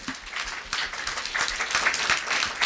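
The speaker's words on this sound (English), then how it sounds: "Brief round of applause," A brief round of applause for panelists at a discussion event, a moderate wash of audience clapping with individual claps audible.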